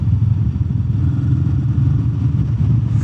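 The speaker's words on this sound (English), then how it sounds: "Sound of the exhaust, that's nice" A Royal Enfield Meteor 350 Aurora motorcycle engine idles with a deep, steady exhaust rumble up close, continuous throughout with no talking.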